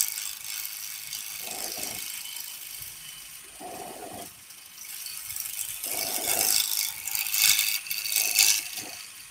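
Spindle gouge shear-scraping a wooden pagoda box on a lathe: a steady, close, bright scraping hiss with a low rattling chatter that swells in short bursts about every two seconds, growing louder toward the end.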